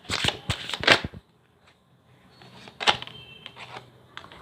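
Tarot cards being shuffled in quick riffling bursts, a cluster at the start and another after a short pause, close and crisp with no talking.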